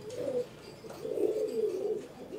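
A pigeon coos in a pigeon loft at a beach, several low, soft rolling coos close by over faint background noise.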